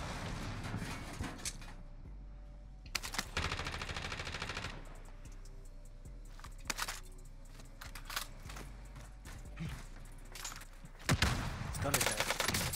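Automatic gunfire from the video game Warzone: loud, rapid bursts of shots come and go, with a dense stretch early on and another burst at the end over steady game noise.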